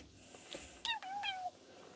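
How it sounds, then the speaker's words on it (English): A house cat gives a couple of short, close meows in quick succession, fairly soft against a quiet room. "My cat's just jumped on the table."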